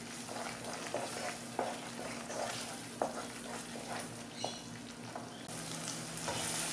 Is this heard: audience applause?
no